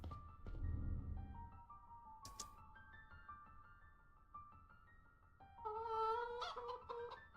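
A chicken sound effect from the video game Poppet Quest, launched chickens producing squawking, clucking cries that repeat through the stretch and grow louder and busier toward the end, with no speech.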